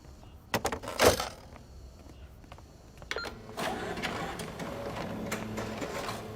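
An office printer in a senior teachers' staff room runs through copies, giving sharp mechanical clacks and feed thumps early on, then a sustained whirring, rolling feed sound, fairly close and with no talk.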